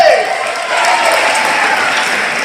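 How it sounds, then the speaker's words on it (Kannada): An audience at a college's 69th Karnataka Rajyotsava celebration claps loudly and continuously in a dense, sustained wash, with a voice briefly audible underneath. "ಚಪ್ಪಾಳೆ"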